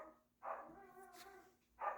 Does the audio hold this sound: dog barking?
yes